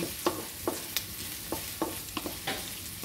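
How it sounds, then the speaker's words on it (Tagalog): Garlic sautéing in a frying pan while cooking Filipino fish adobo: soft sizzling under repeated sharp scrapes and taps of a utensil stirring against the pan, close and steady, with no talking. "Lagay din natin ang ating bawang. Gisa-gisa lang po natin ng ganyan."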